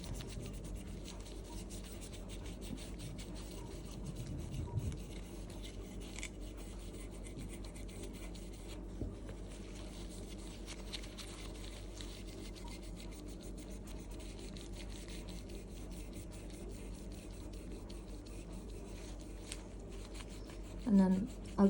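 Jewellery being rubbed with blackened Silvo polish wadding makes a soft, continuous scratchy rubbing close by, faint and steady, with a small knock near the end.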